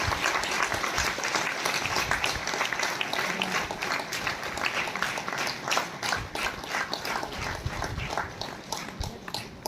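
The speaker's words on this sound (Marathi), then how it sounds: "प्राचीबाईसाठी आणखी जोरदार टाळ्या व्हायला पाहिजे." Audience applause for Prachi at an honouring ceremony for performers in Nagpur, sustained clapping from a full hall that stays loud and busy throughout, with individual claps standing out against the dense mass.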